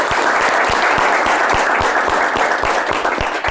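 An audience bursts into sustained, dense applause, steady and loud throughout, with individual claps audible within the crowd noise, at an Ethiopian television show recording.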